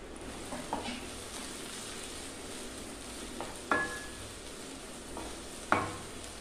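Onions sizzle steadily in a hot pan, with a few clinks of a utensil stirring now and then; no one speaks.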